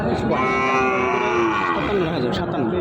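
Sahiwal cattle moo at a border cattle market, one long, loud, harmonic low call running through nearly the whole stretch, close by against a steady crowd murmur.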